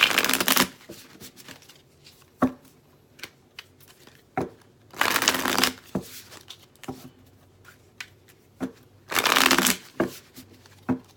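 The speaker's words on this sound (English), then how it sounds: "Let's give it a good couple shuffles." Tarot and oracle cards being shuffled in three distinct riffling bursts, each about a second long, separated by quieter taps and card handling, close and clear with no talk.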